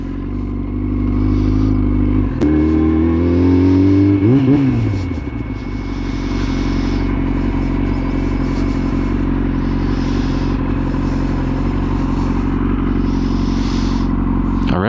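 A car engine revs hard at a stoplight, climbing in pitch, then dropping back to a steady, loud idle rumble that runs on for several seconds.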